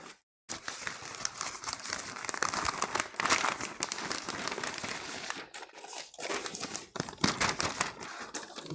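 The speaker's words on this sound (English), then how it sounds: "let me just grab some newspaper that I have right here. This I already cut up." Cut-up newspaper is handled and crumpled close by, a dense, continuous crinkling and rustling with a few short pauses, heard alone without talk.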